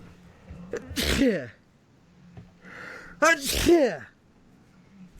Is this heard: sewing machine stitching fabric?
no